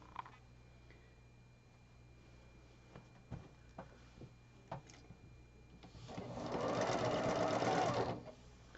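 A sewing machine stitches rows of a plaid quilt block together in one steady burst of a couple of seconds, preceded by quiet handling clicks and taps.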